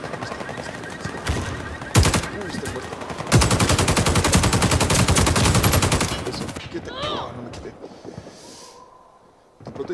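Rapid machine gun fire in a video game, an LMG battle, rattles in loud sustained bursts, one long stretch dominating the middle, with a Spanish-speaking voice calling out over it and quieter game sounds at the end.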